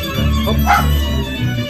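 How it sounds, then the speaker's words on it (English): A dog barks and yips indoors at home during a remote interview, a short burst of a few yelps with whimpery tones, moderately loud over a steady room hum. "so the dog sometimes does have something to say"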